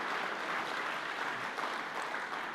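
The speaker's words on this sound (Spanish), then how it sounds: "Dale aplauso al Señor." A church congregation applauds during a worship service, producing a dense, even burst of clapping that carries on steadily for a couple of seconds, somewhat distant and without speech.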